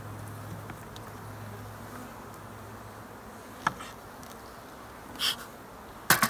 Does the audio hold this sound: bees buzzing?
yes